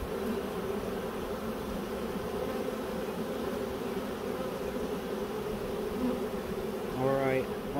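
Honeybee swarm fanning at a hive, a dense, steady, close buzzing drone that holds even throughout, with a brief higher-pitched sound near the end.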